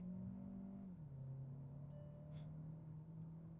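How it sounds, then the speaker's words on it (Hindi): The engine of a 2026 Kia Seltos in sports mode gives a faint, steady low hum whose pitch dips slightly early on and then holds. "मैं आरपीएम बढ़ा रहा हूँ दोबारा। और कुछ ये रिस्पॉन्ड करेगी कार।"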